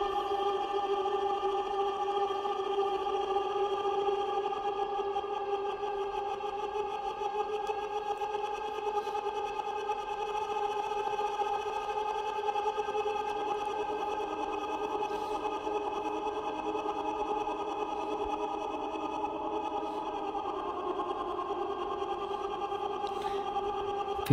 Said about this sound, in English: there's violin through the Morphagene, choir through the Morphagene